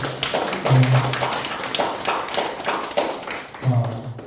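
An audience at an artists' prayer gathering in a church claps steadily to welcome a guest, a dense patter of many hands that rises and falls over several seconds with no talking.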